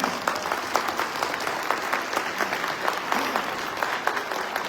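An audience at a fundraising event in the New York area gives a steady round of applause, many hands clapping together in a continuous even patter at moderate loudness, with no voices over it.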